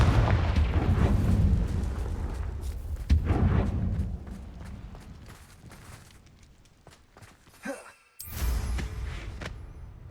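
A Confringo blasting spell in a wizard school game sets off heavy booming explosions that rumble loudly at first, fade over several seconds, then a sharp new blast strikes near the end.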